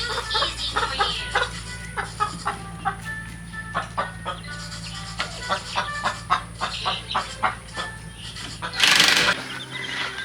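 Backyard chickens cluck in a steady run of short, close calls, with a few louder squawks and a brief burst of rustling noise near the end.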